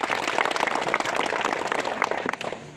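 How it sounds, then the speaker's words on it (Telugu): Dense, sustained applause from an audience at a police community contact gathering in Velpur, Nizamabad district, many hands clapping loudly and steadily throughout without pause. "సార్కి మనందరి తరఫున ఒకసారి గట్టిగా క్లాప్స్ కొట్టండి"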